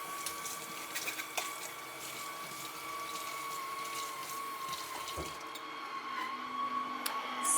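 Juicer parts being rinsed under a running kitchen tap, a steady, continuous gush of water with a faint hum, fairly close and uninterrupted, with no talking.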